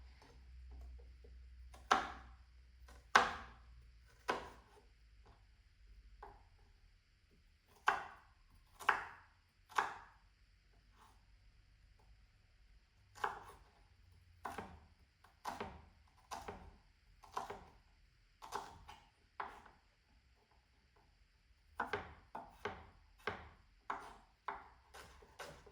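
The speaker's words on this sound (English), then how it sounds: "So I'm just quickly going to chop that up." Knife chopping vegetables, likely onion, on a board: quiet, close, irregular bursts of sharp taps with short pauses between runs, no talking.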